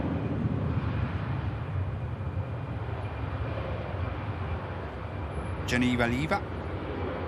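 An EasyJet airliner takes off at Manchester Airport, a continuous low engine rumble filling the background while a person speaks briefly near the end.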